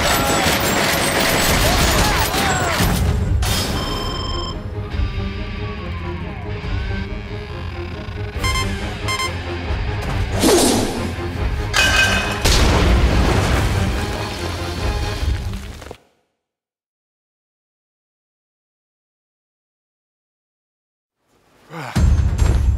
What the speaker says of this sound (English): Aim for the guy manning the machine gun. Don't stand in front of the machine gun!